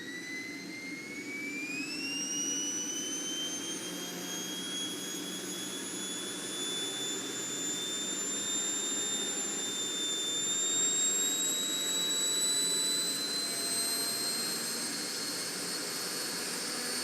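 Homemade jet engine fired on liquid propane with a 38mm nozzle, producing a steady, loud roar with a high whine that climbs in pitch early on and then holds a sustained tone throughout.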